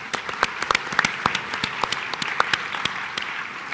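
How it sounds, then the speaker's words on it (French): A small audience claps in sparse, uneven bursts, individual hand claps standing out sharply and close throughout. "On peut applaudir."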